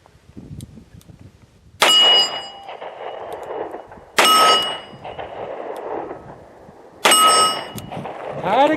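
Three loud, ringing metallic clangs, spaced a few seconds apart, from .38 Special revolver rounds striking a steel plate target outdoors, each hit trailing off in a resonant hum, with a faint voice between shots.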